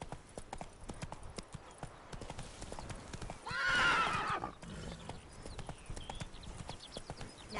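Roach, the horse from The Witcher, clip-clops in a steady walking rhythm, then lets out a loud, drawn-out whinny midway before the hoofbeats continue.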